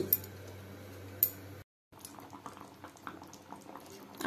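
Potatoes boil in a pot with a steady close bubbling and occasional ticking pops, broken by a short silent gap partway through.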